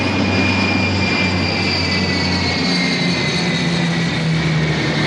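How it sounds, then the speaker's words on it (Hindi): Ilyushin IL-76 transport aircraft flying overhead in formation at an Indian Air Force anniversary display in Chandigarh, a loud continuous roar of jet engines with a high whine riding over the rumble. "IL-76 विमान"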